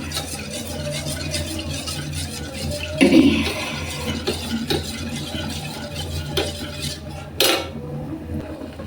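Cornflour cream mixture stirred in a pan, a steady scraping and clinking of a spoon against metal with a louder clatter near the middle and a sharp knock toward the end.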